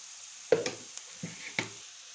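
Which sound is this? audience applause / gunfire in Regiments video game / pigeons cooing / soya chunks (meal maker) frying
soya chunks (meal maker) frying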